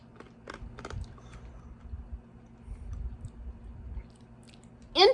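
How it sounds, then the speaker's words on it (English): Close, quiet crunching and soft clicking come from someone chewing a salty lemon mint candy from Indonesia, irregular bites over several seconds with no talking, ending in a brief louder rustle. "I have to chew it up."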